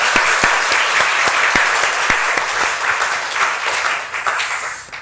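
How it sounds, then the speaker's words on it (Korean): A church congregation applauds the choir after a hymn at a Sunday service, a dense, steady wash of clapping from many hands that carries on throughout, with a few sharper claps standing out up close. "우리 위로의 박수, 격려의 박수 한번 하겠습니다."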